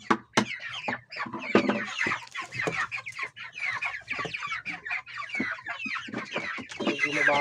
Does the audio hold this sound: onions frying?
no